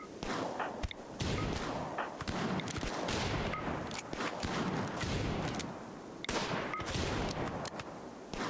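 Gunfire from target practice in the Rimworld video game, repeated sharp shots in irregular bursts and volleys spread across several seconds, fairly loud with no talk over them.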